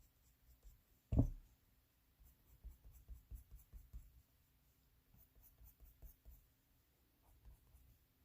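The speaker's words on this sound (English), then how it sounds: "Pencils rolling around here." Colored pencils scratch softly across paper in short, uneven strokes, preceded by a single sharp knock as a pencil is set down or rolls, all quiet and close with no talk.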